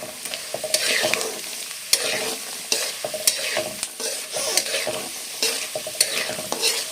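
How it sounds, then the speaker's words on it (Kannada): Peanuts frying in a pan for carrot chitranna, a bright, steady sizzle broken by frequent clinking, scraping stirs of a spoon, fairly close and loud. "ಕಡಲೆ ಬೀಜ ಚೆನ್ನಾಗಿ ಫ್ರೈ ಮಾಡ್ಕೋಬೇಕು"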